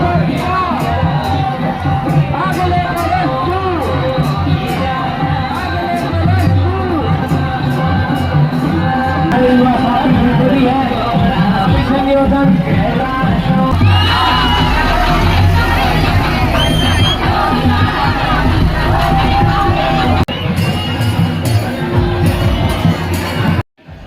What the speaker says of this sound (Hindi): यहाँ पर काफ़ी भीड़ लगी है।